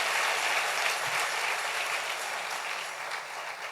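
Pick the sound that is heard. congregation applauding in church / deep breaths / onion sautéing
congregation applauding in church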